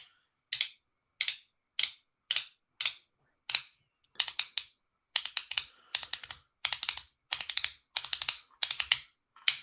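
Metal EDC fidget coins clacking together in sharp, bright clicks, first in separate single taps with pauses, then in faster doubled and tripled bursts, close and loud with no talk.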